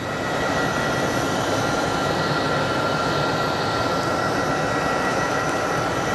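An airplane at Sky Harbor International Airport in Phoenix gives a loud, steady engine roar with a sustained whine, constant and broadband through the whole stretch with no talk.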